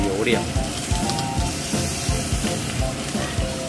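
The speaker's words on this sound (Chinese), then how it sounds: "今天要用煎的呀。" Fish pan-fries in hot oil with a loud, steady sizzle close up, punctuated by rhythmic scraping and stirring knocks from a utensil at regular intervals.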